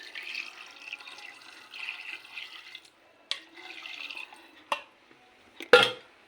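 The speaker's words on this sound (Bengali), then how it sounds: "ঝোলটা ঢেলে দিলাম" Mutton curry broth poured into a pressure cooker with potatoes, giving soft, quiet splashing and trickling liquid sounds broken by a few clicks and a louder clatter near the end.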